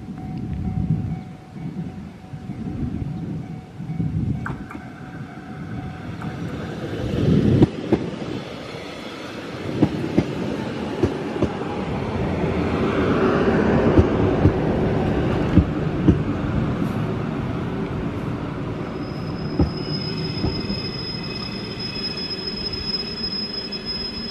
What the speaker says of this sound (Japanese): 1番線に列車が到着いたします。